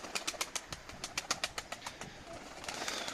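Pigeons in their coop give a quick run of rhythmic cooing and soft pulsing calls, close and moderately loud, then rustling and movement take over toward the end, with no talking.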